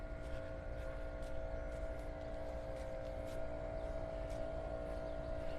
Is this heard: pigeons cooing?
no